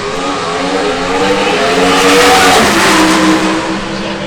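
NHRA drag racing cars at the Midwest Nationals roar down the racetrack, a loud, sustained engine howl that swells and fades slightly as they pass.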